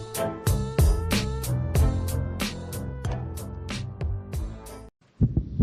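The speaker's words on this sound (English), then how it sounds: "This is the sound of a racing heart." Rapid heartbeat of a young child, steady fast thumps repeating close and clear for several seconds, then a brief gap and a couple more beats, with no talk.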